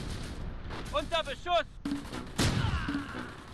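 Gunfire and heavy booms ring out in the World War II strategy game Close Combat during a battle on the Fontenay–Caen road, in sharp loud bursts with ringing tails, while someone talks over the shots.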